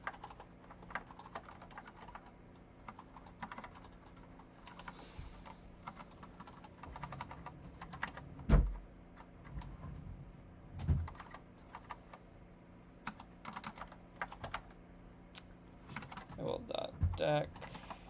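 Keys clacking on a computer keyboard during a coding session, irregular quiet taps with a few sharper knocks, close and fairly faint, with occasional speech mixed in.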